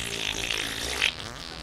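A short, raspy fart bursts out over a steady background hum, lasting about a second before cutting off.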